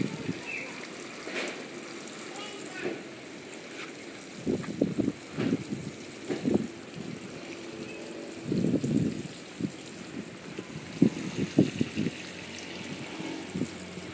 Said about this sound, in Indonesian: ini penyiramannya. Kita siram yang kenyang dia.